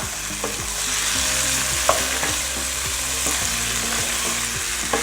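Beans, paneer, capsicum and other vegetables for a vegetable biriyani are stirred in a hot pan, a loud continuous sizzle punctuated by repeated scraping strokes of the spoon, with no voices.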